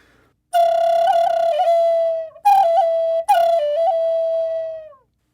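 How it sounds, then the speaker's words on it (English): Three sustained Native American flute notes, loud and clear, each with fluttering tongue-trilled warbles and bends, separated by brief breaths. "If you trill, rolling your tongue in your mouth, it would sound like this."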